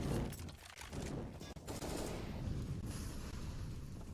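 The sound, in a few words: AK rifle gunfire in Counter-Strike video game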